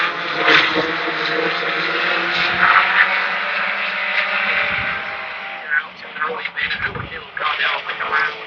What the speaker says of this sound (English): Green flag out, heat race underway.